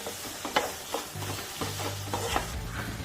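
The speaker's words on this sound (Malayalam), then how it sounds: "ഇനി ഈ പൊടികളെ പച്ചമണം മാറുന്ന വരെ നമുക്കൊന്ന് മൂപ്പിച്ചെടുക്കട്ടോ" Garam masala and other spice powders roasting in a pan: a soft, low sizzle with scraping, stirring strokes against the pan, fairly quiet and close, with no talking.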